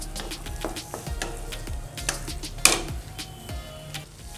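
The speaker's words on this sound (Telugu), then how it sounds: "లో ఫ్లేమ్లో ఇదంతట్లో పచ్చివాసన పోయేంత వరకు ఈ విధంగా మధ్య మధ్యలో కలుపుతూ వేయించుకుందాం" Garlic paste gravy for lehsuni palak fries gently on a low flame, with soft sizzling and scattered scraping clicks of stirring, one sharper tap midway, close and steady.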